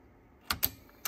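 Several sharp plastic clicks from the door lever of a Sony TC-K777ESII cassette deck as it is pressed hard and snaps shut, close and crisp against near silence.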